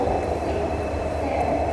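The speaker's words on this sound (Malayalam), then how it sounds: "ഈ ട്രെയിൻ നിലമ്പൂരിൽ നിന്നാണ് ഷൊർണൂർക്ക് വരുന്നത്" A passenger train running from Nilambur toward Shoranur gives off a steady low rumble and rolling noise throughout, continuous and fairly loud, with no voices over it.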